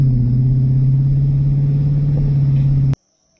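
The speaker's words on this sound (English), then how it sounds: "car is driving." A car drives at steady speed, its engine and road noise forming a constant low rumble that cuts off abruptly near the end, leaving near silence.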